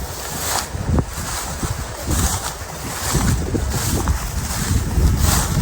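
Wind sweeps across a rice field at harvest time, a steady roaring rush with gusts buffeting the microphone and no voices.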